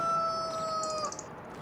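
Chickens on a farm, with a drawn-out high crow and a few quick clucks heard close and alone, with no talk.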